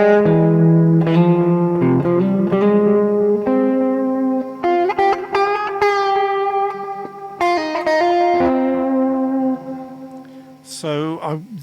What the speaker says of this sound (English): Add reverb.